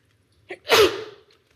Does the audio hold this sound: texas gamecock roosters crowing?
no